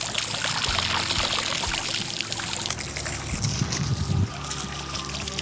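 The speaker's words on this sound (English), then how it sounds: "Give the propeller a quick rinse" Running water rinses the propeller of a Waydoo Flyer ONE electric hydrofoil board, a steady, close pouring rush with a brief lower splashing patch where the stream hits the part.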